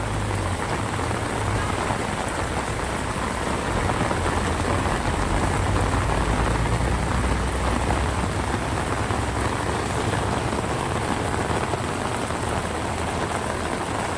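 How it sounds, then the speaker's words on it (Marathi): Heavy monsoon rain pours down steadily under a fully overcast sky, a dense unbroken hiss with a faint low rumble beneath, constant and close throughout. "बघू शकता गाईज, पावसाचा जोर आता खूप वाढलेला आहे."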